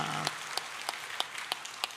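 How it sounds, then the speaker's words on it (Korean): Congregation at a Sunday church service claps in unison, about six evenly spaced hand claps in slow rhythm over a hushed, roomy background. "우리를 부르시는 주님 앞에 영광의 박수를 올려드리겠습니다."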